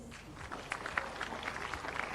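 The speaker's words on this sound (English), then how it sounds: "Don't you think you should applaud that?" Audience at a professional students summit applauding, scattered claps building into a faint, brief round of applause heard from a distance.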